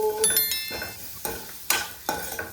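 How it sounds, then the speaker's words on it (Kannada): Capsicum with jaggery and masala is stirred as it fries in a pan, giving a soft sizzle broken by about four distinct spatula scrapes in an uneven rhythm, up close with no talking. "ಓಕೆ, ಇಷ್ಟ ಆದ್ಮೇಲೆ ಫ್ರೈ ಮಾಡ್ಕೋಬೇಕು."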